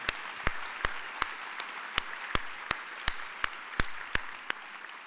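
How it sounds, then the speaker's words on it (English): An audience at a veterans' organization opening session applauds, mostly sharp, evenly spaced claps from close hands in a steady rhythm over a thin, quiet spread of wider clapping. "let's give them another big round of applause for that effort"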